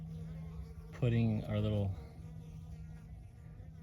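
Wild bees buzz around a bee-lining dish out in the desert, a steady insect hum that swells briefly up close, partly under a voice talking.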